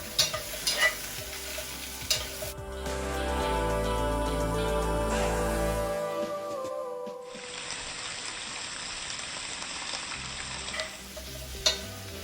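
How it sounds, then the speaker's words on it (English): Carrots and celery tossed in hot oil while braising, a steady sizzle with stirring scrapes and clanks, louder in the middle then settling into a bright, even frying hiss. "Tossing those around in the oil, getting them slightly coated, a little color."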